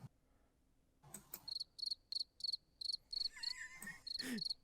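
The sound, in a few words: crickets chirping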